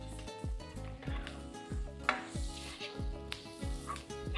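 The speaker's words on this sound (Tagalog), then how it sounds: "Hintay lang natin medyo magmantika ang ating liempong luto na." Liempo, pork belly, sizzles steadily in hot oil in a pan with occasional stirring clinks. The frying hiss stays moderate and close throughout, over faint background music, with no voices.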